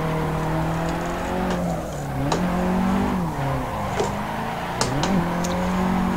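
A Street Heroes 180SX drift car in Assetto Corsa, its engine droning and rising and falling in pitch as revs climb and dip, with repeated sharp tire squeals cutting through during slides.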